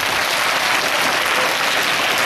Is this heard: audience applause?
yes